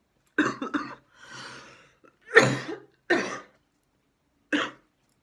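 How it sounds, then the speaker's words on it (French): Several separate coughs and a throat clear with short silences between, close and fairly loud, plus a raspy breath. "Excusez-moi, je tousse encore"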